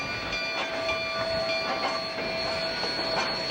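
A D&RGW narrow gauge K37 steam locomotive train, about 12 to 15 cars with a helper engine, climbing a 4% grade toward Cumbres; a steady rumble with sustained tonal squeal and faint rhythmic clatter, no voices.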